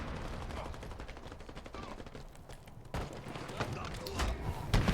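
Gunfire in the video game Halo Infinite, a sniper rifle among the weapons, with repeated shots and bursts over dense game noise and a sharp crack near the end, while people talk throughout.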